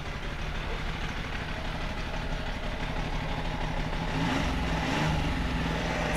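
Car engine idling steadily during an alternator and battery test on a car with hot-start trouble, a continuous low mechanical hum with a slight rise toward the end; no talking.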